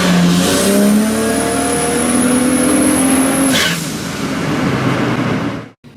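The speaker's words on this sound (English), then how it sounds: "So I took the car out for a drive on Sunday." A tuned car engine revs hard while driving, climbing in pitch through several gear pulls with a steady loud drone, then easing off before cutting out near the end; no one speaks.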